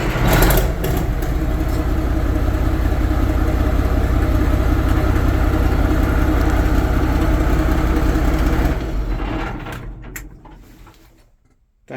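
An Allis-Chalmers 8550 tractor engine idles loud and steady just after starting, a deep continuous rumble that holds for about nine seconds before winding down and cutting off.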